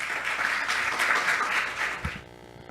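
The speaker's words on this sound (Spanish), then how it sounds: "Lo recibimos con un aplauso." Audience applause welcoming a speaker at an international communication research colloquium, a steady dense wash of many hands clapping that fades out near the end, with a brief thump as it dies away.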